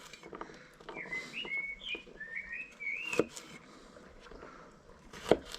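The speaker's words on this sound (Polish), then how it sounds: "Ptaszki ładnie ćwierkają, mam nadzieję, że słyszycie." Birds chirping and whistling in short melodic phrases outdoors, moderately near, over a low background with a couple of sharp knocks, while garlic is being prepared for a kettle dish.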